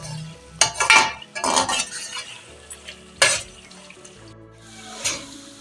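Tomatoes frying and being stirred in a beef karahi pan, a steady sizzle under several sharp scrapes and clanks of a metal spoon against the pan, close and fairly loud.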